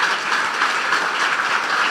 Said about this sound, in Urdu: بجا دیں یسوع کے لیے تالیاں اگر آپ کو برکت مل رہی ہے